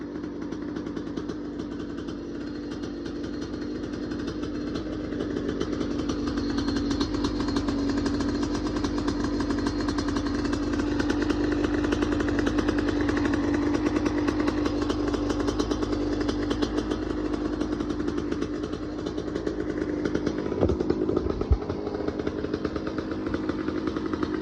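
A restored Yamaha YZ125 two-stroke dirt bike engine runs steadily and loud up close, a buzzy continuous drone that holds through the clip with a brief sputter near the end.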